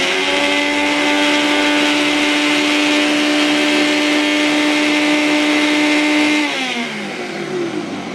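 Ninja BN800UK 3-in-1 food processor and blender running at a steady high-pitched motor whine, loud and close, then the pitch drops and winds down near the end.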